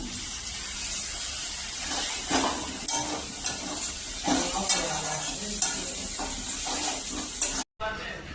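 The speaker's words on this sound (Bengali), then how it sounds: "ঘিমা শাকের পোস্ত হচ্ছে কষানো হয়ে গেছে, কি সুন্দর কষিয়ে দিলাম" Ghima greens with poppy seed are stir-fried in a pan, a loud, continuous sizzle broken by repeated scraping strokes and clatter against the pan, with a brief dropout near the end.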